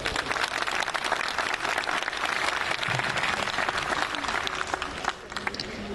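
Crowd applause for vice-minister Luis Jaime Castillo at a launch event in a plaza at Peru's Government Palace, sustained dense clapping from a large gathering, dipping slightly near the end.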